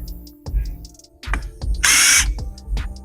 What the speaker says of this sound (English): Now we're going to come with our drill.